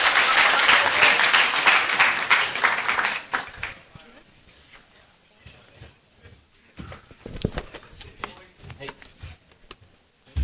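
An audience at a provincial capital markets debate applauds loudly for a few seconds, then the clapping thins out into scattered, separate claps and small knocks in a quieter hall.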